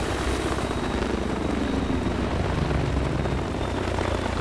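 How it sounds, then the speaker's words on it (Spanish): A military helicopter in Battlefield 3 flies nearby with a continuous loud rotor roar and engine rumble, steady throughout and without speech. "Helicóptero."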